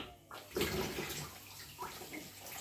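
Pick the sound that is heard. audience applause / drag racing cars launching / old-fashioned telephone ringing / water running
water running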